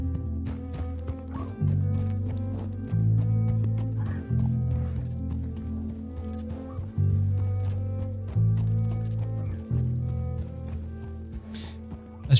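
Horse hooves clip-clop at a steady galloping rhythm in the video game Red Dead Redemption 2, close and continuous, with game music swelling underneath and a brief whinny near the end.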